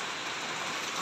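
Rain falls at an outdoor vegetable market during Ramadan, a steady, even hiss of drops on surfaces that fills the short stretch with no voices.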